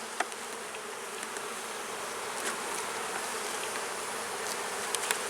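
Honey bees at an open hive, during a mite treatment and pollen feeding, give off a steady, dense, close buzzing hum. Occasional louder individual bees pass by, and no one speaks.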